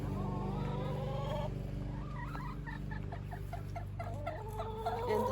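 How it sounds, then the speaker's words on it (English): Backyard chickens, little ones mixed in with the big hens, cluck and call continuously at moderate distance over a steady low rumble of outdoor background noise. "And the chickens, all the little chickens have been put in with the big chickens."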